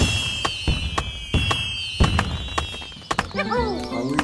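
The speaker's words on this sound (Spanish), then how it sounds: "Vamos a cortar el arbolito." A small tree is chopped down in the video game New Yankee in King Arthur's Court: a run of sharp, loud wooden strikes lands at a steady rhythm, followed by a few brief tonal game chirps near the end.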